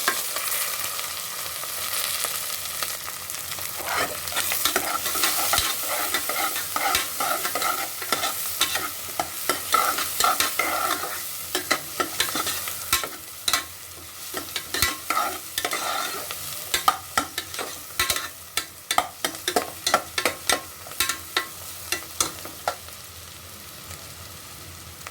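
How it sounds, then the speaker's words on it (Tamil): Onions and curry leaves sauté in a pan for tomato kurma with a steady close sizzle. A spoon scrapes and taps against the pan in irregular strokes throughout. "வெங்காயம் நல்லா வதங்கட்டும்."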